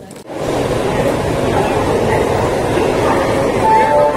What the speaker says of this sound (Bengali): হচ্ছে আমাদের ট্রেন